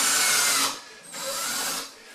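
A power drill with a 1/16 inch bit drills a small hole during an accordion door installation, two close whirring bursts with a short dip in between.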